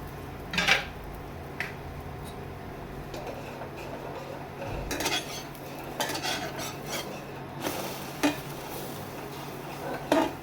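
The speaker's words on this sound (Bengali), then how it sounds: "লাল লাল করে ভাজতে হবে গোলা পিঠেটা বাটার দিয়ে" Gola pitha frying in butter in a pan, a faint low sizzle broken by occasional scrapes and clatters of a spatula and utensils against metal, with no voices.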